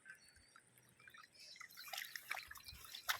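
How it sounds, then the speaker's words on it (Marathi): A small spring trickling into a pond, soft irregular drips and gurgles that start faint and grow busier and closer over a few seconds, with no voices. "इथे झरा आहे तलावामध्ये, हा बघा. तो डायरेक्ट तलाव जातो."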